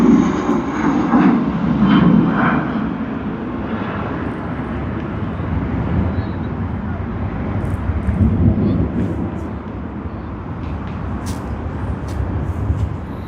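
An Emirates airliner departs Sydney Airport, its engine roar loud and steady, swelling early then holding as a broad sustained rumble while the plane climbs away.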